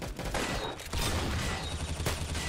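Dense, continuous gunfire from a Henry rifle in the video game Arsenal, loud and close, with rapid overlapping shots and no talking over it.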